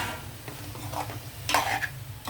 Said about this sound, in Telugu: మనం వంకాయలు నెమ్మదిగా ఇందులోకి జారు పెడతామండి